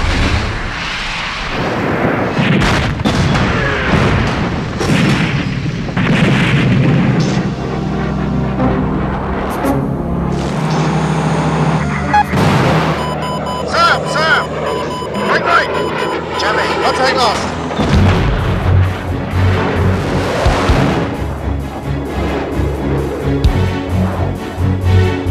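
Artillery fires in a military setting: heavy booming blasts and rumbling bursts recur under nearly continuous speech and radio chatter, with a sustained roar between shots.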